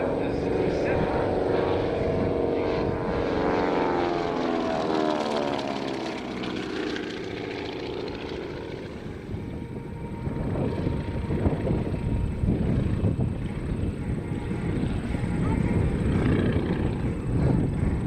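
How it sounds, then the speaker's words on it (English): A Beech C-45 twin-engine propeller aircraft, the CT-128 "Canadian Queen", flies at the 2024 Rochester airshow, its loud droning engines changing in pitch as it passes, with a commentator talking over it. "We continue to watch Dave Hewitt in the C-45"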